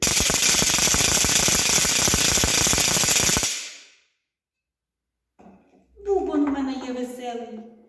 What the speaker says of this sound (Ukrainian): Подивіться, ось тріскачка, як сорока скрекотить